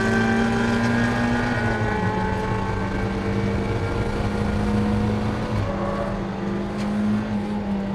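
Mazda MX-5 ND roadster race cars accelerating side by side on a circuit straight during a Roadster Cup race, a loud sustained engine drone with steady harmonic whine that shifts pitch at gear changes, continuous and close.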